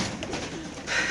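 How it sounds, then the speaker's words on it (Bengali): Pigeons, including a pair of Red Checker racing pigeons, coo softly in a loft, with brief low calls over a steady background hiss. "তারপরে এখানে আছে এক জোড়া কবুতর"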